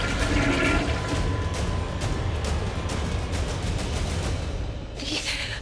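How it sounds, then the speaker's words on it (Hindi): Toilet flushing in a house washroom in a Hindi TV serial scene, a continuous loud rushing of water lasting several seconds before tapering off. "ये वॉशरूम में से फ्लश की आवाज आ रही है"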